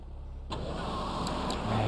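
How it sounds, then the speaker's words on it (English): A car engine cranks and catches in the game GTA 3, the start kicking in abruptly after a quiet moment, then settling into a steady loud idle with a couple of brief high clicks. "Okay, we take drug dealer's car now."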